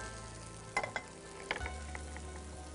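Panch phoron tempering poured into a pot of khichuri, a soft steady sizzle with a few sharp clinks and splatters early on, quiet and close, with no talking.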